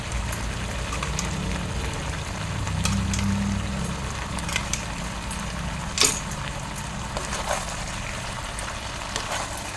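Ground coriander, cumin, ginger, green chilli and tomato paste frying in a pan, giving a soft, steady bubbling sizzle with scattered pops and one sharper clatter, heard close and without talking.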